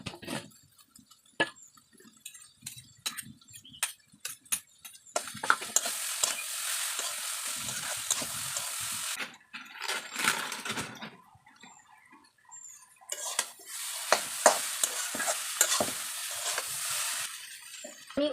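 Potatoes coated with turmeric and salt go into a frying pan with greens, bringing bursts of loud sizzling and frying between quieter stretches of scraping and stirring close by.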